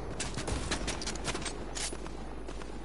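Rapid gunfire bursts from the Fortnite battle royale solid gold game mode, a steady barrage of repeated shots at moderate distance, with no voices over it.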